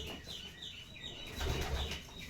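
A white pigeon in a garden taking off, its wings flapping in a quick, fluttering burst that swells briefly, close and fairly soft, with faint chirps in the background and no talking.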